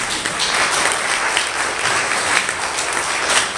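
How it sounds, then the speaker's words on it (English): An audience at a church tribute claps steadily throughout, a dense, even round of applause from a full room, loud and sustained with no voices over it. "Can I give a special round of applause and appreciation for Stacy?"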